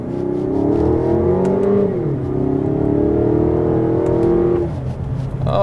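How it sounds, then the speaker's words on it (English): A 2016 Lexus NX200T in sport mode accelerates hard, its engine revving loud and close with a steady rising drone that dips at a gear change and then climbs again before easing off. "this engine really doesn't sound great, but when you're in the higher RPM in that sport mode, it sounds a little throaty"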